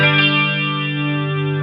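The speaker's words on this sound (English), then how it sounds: "a touch of reverb is all that's needed." A sustained electric guitar chord through a Marshall MG15HCFX mini stack amp with a touch of reverb, ringing steadily after the attack and fading slightly, with no talk.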